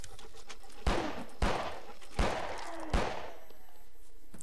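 Four sharp gunshots ring out in a first-person horror game, spaced roughly half a second to a second apart, each a loud crack with a short reverberant tail over a quiet ambient background.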